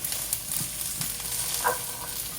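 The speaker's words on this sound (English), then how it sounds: "So adding in our green beans." Green beans tossed into a hot pan of browning garlic, giving a steady close sizzle and frying hiss with a few faint stirring scrapes, no talking.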